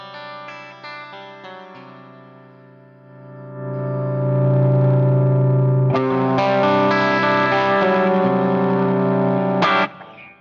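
A Reverend BC-1 Billy Corgan signature electric guitar played through effects, ringing distorted chords sustaining with chorus and reverb, swelling louder midway and then cut off sharply.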